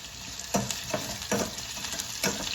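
Shallots and cinnamon sizzle steadily in a hot pan while a spoon scrapes and stirs in a few rhythmic strokes, close and fairly quiet.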